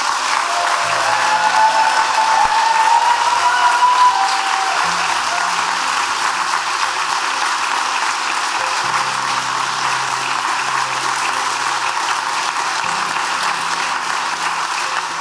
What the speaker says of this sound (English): as a final accolade and round of applause, I'd like to pay a big tribute to Margaret Dunn